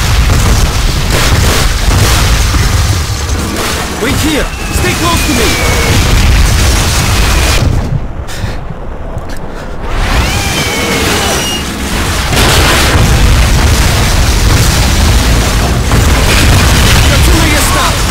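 Artillery shells explode repeatedly during a World War II battle in the Call of Duty Finest Hour video game, with loud, dense booms and blasts mixed with shouting soldiers and chaotic combat noise throughout.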